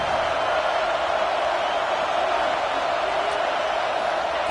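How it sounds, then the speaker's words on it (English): Dense, steady roar of a packed stadium crowd at an SEC college football game, Tennessee versus Georgia, a continuous wash of cheering and noise heard from within the stands with no break. "Listen to the crowd energy here in the early going."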